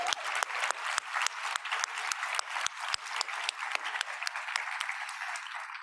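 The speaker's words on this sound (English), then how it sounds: "let's give that a round of applause." An audience at the opening of a congress applauds, a moderately faint, steady patter of many hands with a few sharper, louder claps, sustained for several seconds.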